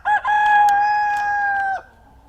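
A rooster crowing inside a chicken coop, one loud, close, sustained crow held for over a second, preceded by a brief squawk, then quiet.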